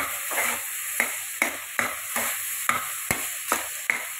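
Ginger and garlic fry in a pan with a steady hiss of oil, punctuated by about nine regular scrapes of a spoon stirring at roughly half-second intervals, close and clear with no talk.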